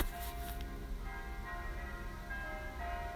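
Church bells ringing for a wedding, a steady sustained peal with layered tones and a brighter clang near the start, fairly loud and continuous with no talk.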